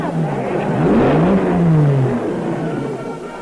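A Jaguar race car at the 1953 Le Mans race, its engine note rising and bending in pitch as it accelerates away, loud and close against a constant background roar.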